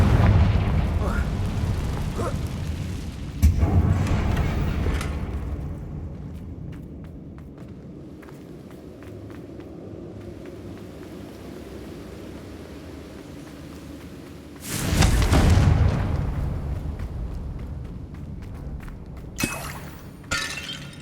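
Fire-spell explosions from Confringo cast in Hogwarts Legacy, two loud bursts with crackling debris, the first early and the second around the middle, separated by quieter ambient game sound and a few sharp impacts.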